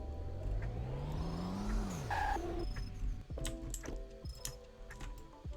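Porsche Taycan electric car driving in the Roblox game Greenville, a steady motor whine that rises and sweeps in pitch, then scattered clicks and tones from the game interface, loud and without talk.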